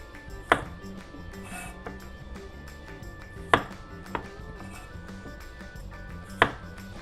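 A knife chopping the ends off radishes on a cutting board, three sharp distinct thuds spaced a few seconds apart with a lighter tap between, over quiet room tone.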